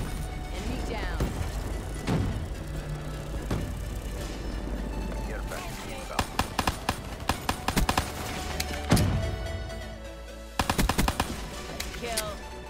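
Pistol fire from a specialist in Black Ops 3, sharp shots in quick bursts over busy game music and effects, with a voice-over speaking under the action.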